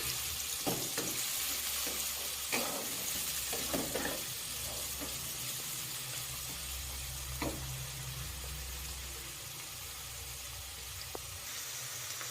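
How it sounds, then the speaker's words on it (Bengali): Onion pieces frying in a pan while being stirred, a soft steady sizzle with scattered scraping and clinking stir strokes over a low background rumble, no voices. "ওর মধ্যে আমি পেঁয়াজের টুকরোটা দিয়ে দেব। দিয়ে ভালো করে আমি একটু নাড়াচাড়া করে নেব।"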